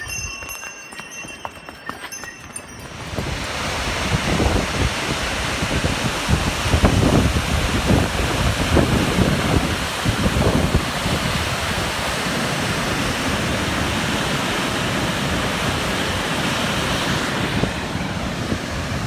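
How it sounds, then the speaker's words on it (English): Rushing water from waterfalls and a fast river along the Manaslu Circuit trail in Nepal. It makes a loud, steady broadband roar that sets in after a few quieter seconds and holds to the end. "That's a lot of waterfalls, a lot of water."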